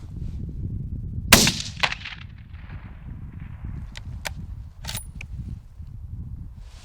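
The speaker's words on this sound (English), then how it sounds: "I'm gonna shoot again." A hunting rifle fires during field shooting practice: one sharp, loud shot cracks out with a short echo, followed by fainter clicks and handling sounds over quiet outdoor background.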